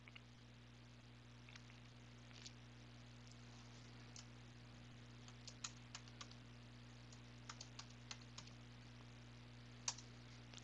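Someone types a password on a computer keyboard in sparse, quiet key taps that grow slightly denser toward the end. A steady low electrical hum sits underneath.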